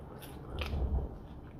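Close-up chewing of honeydew melon: a soft crunchy bite followed by moist, squishy mastication.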